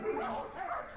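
A pet dog barks and growls during an aggressive encounter with another dog, a short, close, muffled outburst with a person talking underneath.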